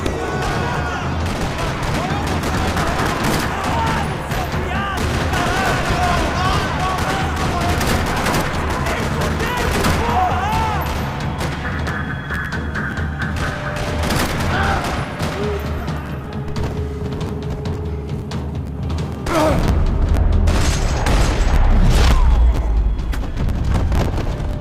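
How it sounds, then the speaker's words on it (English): Sustained gunfire rattles through a parking lot shootout in the video game Max Payne 3, with dense bursts of shots, booms and thuds layered over one another and a heavier low rumble building near the end. "Another parking lot rattling with gunfire."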